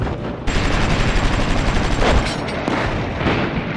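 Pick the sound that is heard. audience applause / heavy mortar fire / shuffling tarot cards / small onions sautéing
heavy mortar fire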